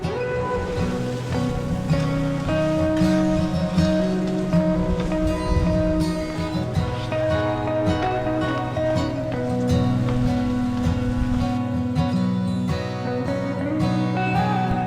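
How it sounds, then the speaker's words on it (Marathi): Monsoon rain falls steadily at Ratangad fort in the Sahyadri hills, a dense continuous hiss of drops on rock and foliage filling the whole stretch without pause. "आता पाऊस आणि आता पुन्हा एकदा धुकं पडलं"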